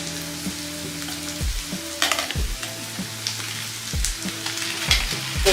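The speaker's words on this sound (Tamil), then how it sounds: "இப்போ நம்ம அரைச்சி வச்ச சிக்கனை நம்ம போட போகிறோம்." Ground chicken for chicken podimas frying in a pan, with a steady close sizzle and repeated spatula scrapes and knocks against the metal, alongside a faint background hum and no talk.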